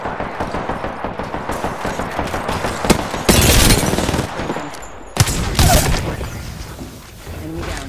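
Rapid automatic gunfire in a first-person shooter video game, loud sustained bursts of shots with heavier booming volleys partway through, close and dense, no talking.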